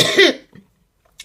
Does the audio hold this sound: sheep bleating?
no